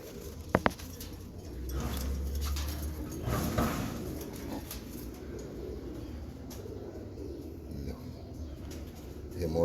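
Pigeons coo softly in low, rounded murmurs over a quiet background, with a couple of sharp clicks near the start and faint voices nearby.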